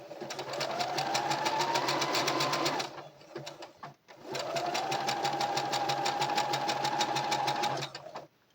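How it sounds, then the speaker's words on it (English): A sewing machine back stitches a hair bonnet in two long runs of fast, even mechanical whirring, loud and close, with a brief pause between them. "And then when I get to the end, I'm going to back stitch it again."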